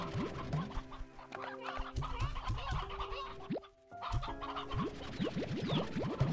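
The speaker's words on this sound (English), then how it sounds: "There are way too many chickens in this coop." Many chickens cluck in a crowded coop in the video game Slime Rancher 2, a busy, overlapping chorus of short clucks and squawks that is steady and fairly close, with a brief dip midway and no talk.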